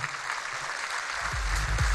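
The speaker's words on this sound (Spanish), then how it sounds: "Fuerte aplauso para Juan" Audience applause for a performer at a live streamed show, a broad steady wash of clapping that builds slightly louder toward the end, with some low thumps underneath.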